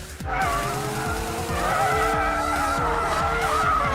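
A McLaren 720S drifting with its variable drift control engaged, its loud engine rising and falling through gear changes while the tires squeal in sustained wavering howls, close and continuous.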